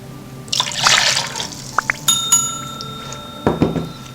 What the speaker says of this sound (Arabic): ونزيدو الماء